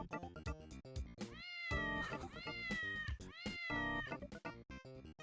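Repeated cat meows in the David Bowie 3D Worlds video game, a run of drawn-out, pitch-bending calls following one another rhythmically and loud, standing alone with no talking.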